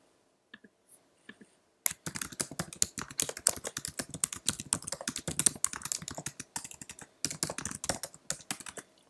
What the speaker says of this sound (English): Let's now go into the email and type Dear CSV.